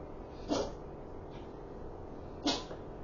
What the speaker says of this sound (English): My cat sneezed.